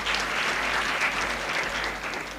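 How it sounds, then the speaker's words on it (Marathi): An audience at a school career fair in Nashik gives a short burst of dense, steady applause for a girl named Lalita, with many hands clapping together. "ललितासाठी एकदा टाळ्या"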